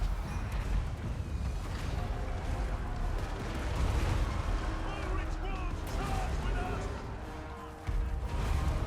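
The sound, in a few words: gunfire from handgunners in the video game Total War: Warhammer 2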